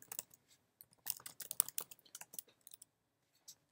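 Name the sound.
typing apt-get update on computer keyboard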